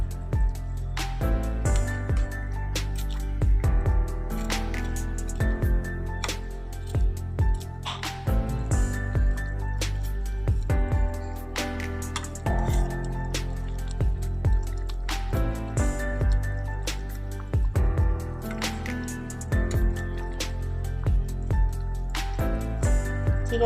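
Pieces of sea fish slide into a pot of bubbling sour-spicy curry broth, giving wet plops and squishy splashes over a steady simmering bubble, close and fairly loud with no talking.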